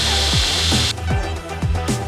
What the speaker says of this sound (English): as soon as I start to push, it starts to grind steel.